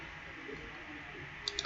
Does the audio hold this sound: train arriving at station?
no